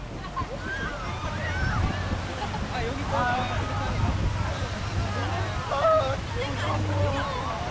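Ocean waves at Songjeong Beach in Busan, a shallow surfing spot, keep up a steady wash of surf with a low rumble beneath. Distant chatter and cries from beachgoers come through on and off, and some wind buffets the microphone.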